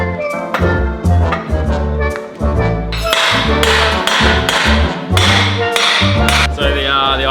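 Repeated sharp metallic clangs ring out close by, irregular hammer blows on steel with a ringing tone between strikes.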